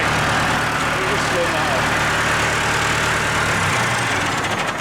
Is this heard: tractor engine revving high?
yes